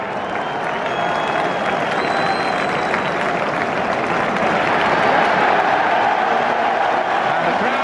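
A football stadium crowd at a 1996 Arsenal versus Chelsea match roars steadily with applause and cheering, a loud, continuous wash of noise that swells slightly midway and never drops out.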